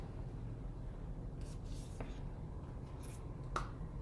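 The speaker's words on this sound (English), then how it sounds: "Let me write it down." Handwriting on paper, a pen making faint scratchy strokes, quiet and intermittent, with a few brief sharper scrapes over a low background hum.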